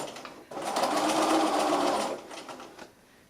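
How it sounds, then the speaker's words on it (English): A sewing machine stitches soft toy bear fabric, starting and ending with a short back stitch; a close, steady motor whir lasting under two seconds, with a quieter tail as it slows and stops. "Start and finish with a little back stitch."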